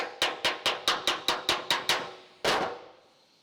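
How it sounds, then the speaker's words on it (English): Nine quick metallic hammer blows in an even rhythm on a dented panel of a 2003 Holden VY Storm ute, then a short pause and one last heavier strike that rings out, all close and loud with no talking. "the dull noise of the metal moving out from under the hammer"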